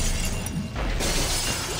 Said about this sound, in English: Break some glass.